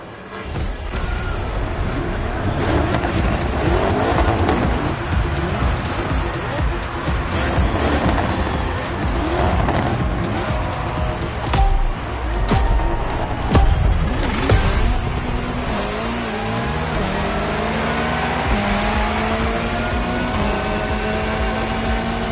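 Touring cars racing in the video game The Crew Motorfest, engines roaring loudly and continuously with rising and falling revs, gear shifts and occasional tire squeals, alone without talk.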